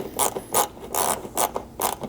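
A ratchet clicks in short bursts while T30 Torx fasteners come out of the front plastic trim on a Lexus LX 570, four or five close, separate spurts of rapid clicking with brief pauses between them.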